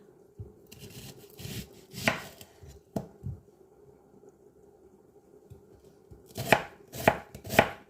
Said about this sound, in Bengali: এখন এই সাইজের একটা পেঁয়াজ আমি কাটিয়ে নিই